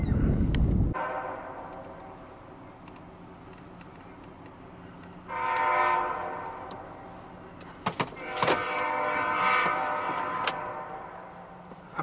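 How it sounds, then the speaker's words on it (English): A Norfolk Southern freight train passes at a distance beside CSX tracks, with a low rumble swelling and fading and a burst of sharp clanks and rattles partway through. "There goes the Norfolk Southern."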